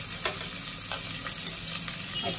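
Onion pieces sizzle steadily in hot oil with tempering seeds, a close, even crackle with a few louder pops and stirring scrapes.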